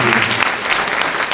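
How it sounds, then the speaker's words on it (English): An audience at a community meeting claps together, a short, dense burst of applause that stays loud and even throughout. "please give yourself a hand clap"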